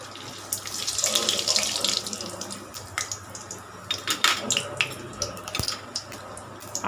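Mustard seeds and urad dal crackle and sizzle in about 50 grams of hot oil for a lotus stem gravy: a steady frying hiss with scattered sharp pops, fairly close, with no talking.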